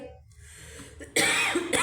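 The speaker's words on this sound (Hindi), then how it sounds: "मुझे खांसी नहीं जा रही है" Quiet rustling, then a sudden loud, harsh cough bursts out close by, quickly followed by a second, shorter cough.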